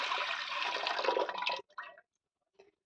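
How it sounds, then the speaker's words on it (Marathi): A jug of water is poured into a cooking pot while making Khandeshi dal chikhlya with toor dal: a steady, splashing pour for about a second and a half, then a couple of short trickles and a faint final drip. "एक तांब्या पाणी टाकते."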